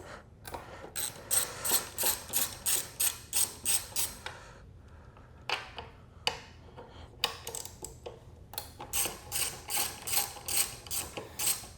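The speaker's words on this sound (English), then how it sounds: "Let's unbolt these and see what happens." A ratchet undoes the tail light bolts on a Honda CBR650R motorcycle, giving close, crisp runs of rapid clicking strokes, a pause with a few isolated clicks, then more rhythmic ratcheting bursts, no speech.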